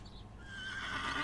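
A horse whinnies in a video game set around Hob's Barrow, a short rising neigh with a soft clatter of hooves beneath, close and fairly quiet.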